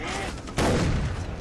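Shotgun fire in Far Cry 3: a single sharp, heavy blast that cuts through low background noise and rings out with a rumbling decay of about a second.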